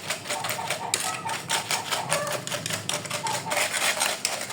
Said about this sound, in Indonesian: kita kocok sampai berubah warna atau sampai margarinnya itu benar-benar tercampur merata